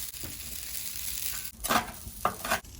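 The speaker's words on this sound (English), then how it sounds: "Cook the bacon." Bacon frying on a Blackstone griddle, a steady quiet sizzle with a few louder scraping stirs of a spatula near the end, no voices.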